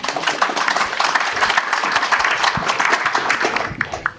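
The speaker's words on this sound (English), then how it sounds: "round of applause" Conference audience claps after a speaker's introduction at a technology and learning talk, many hands making a continuous crackle with distinct sharp slaps standing out, close and loud from start to end.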